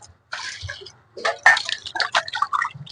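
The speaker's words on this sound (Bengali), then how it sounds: "এবার মাছটাকে পরিষ্কার করে আগে একবার জল দিয়ে ধুয়ে নেবো ভালো করে।" Rohu fish pieces being rinsed by hand in a bowl of water for a curry, giving close, irregular splashes, drips and sloshes in bursts with short pauses between them.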